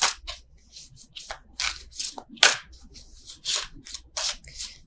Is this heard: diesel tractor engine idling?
no